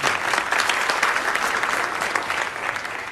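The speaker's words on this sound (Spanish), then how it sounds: "¡Aplauso!" An audience breaks into warm, sustained applause, many hands clapping densely and evenly at moderate distance, holding steady for a few seconds before easing slightly at the end.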